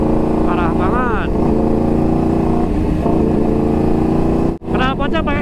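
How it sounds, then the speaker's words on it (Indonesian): Motorcycle fitted with an Awi Gombong aftermarket exhaust revs loudly and close by, its engine note rising and falling in several pulls, with a brief cut near the end before it picks up again. "Knalpotnya pakai knalpot Awi Gombong."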